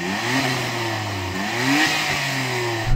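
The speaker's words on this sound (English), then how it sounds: "Go on R33, rev up your motor." A Nissan GT-R R33 engine revs up and down repeatedly, rising and falling in pitch, loud and close.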